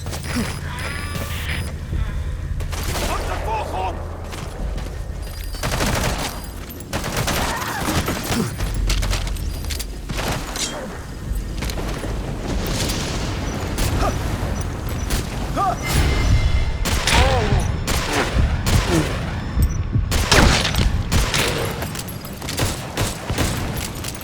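Bursts of gunfire and heavy explosions in a combat area, with loud, dense volleys and booming blasts continuing throughout, while voices talk and call out under the barrage.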